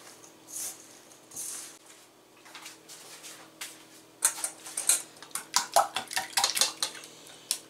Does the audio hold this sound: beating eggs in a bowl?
yes